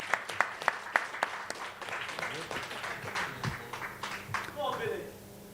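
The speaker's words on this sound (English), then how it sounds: "Big round of applause for Mark." Audience applause at a fight night press conference, a crowd clapping steadily with sharp individual claps early on, swelling into a fuller, sustained round before fading, with voices murmuring underneath.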